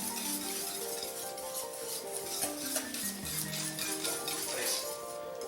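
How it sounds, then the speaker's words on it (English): Ingredients for a broccoli side dish being mixed together in a bowl, with steady clinking and scraping of a utensil against the dish heard close up beneath faint background sound, no clear talk. "And we're going to mix that together."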